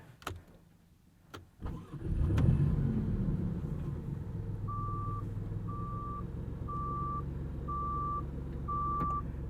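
A 2022 Maserati MC20 sports car engine cranks and fires up, then settles into a low, steady idle while a series of evenly spaced electronic beeps chime repeatedly.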